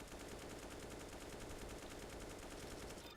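Sustained automatic gunfire from a rifle spray in Counter-Strike: Global Offensive recoil practice, a rapid, evenly spaced burst of loud shots running nonstop for about three seconds with no talking.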